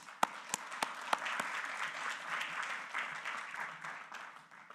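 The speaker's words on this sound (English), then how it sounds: "let's give him a round of applause" Applause from a school board meeting audience, a steady patter of many hands clapping at moderate level with a few sharper individual claps near the start, slowly thinning toward the end.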